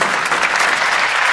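Audience at a Hindi comedy poetry recital breaks into loud, steady applause, a dense burst of clapping from a large crowd with no voices on top.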